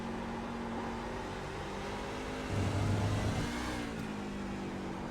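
A NASCAR Craftsman Truck Series truck engine in the iRacing sim at Lime Rock drones steadily, then swells as the throttle opens, a brief louder surge of acceleration before settling back to an even hum.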